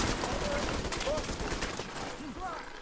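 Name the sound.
gunfire with explosive and fire bullets in The Division 2 video game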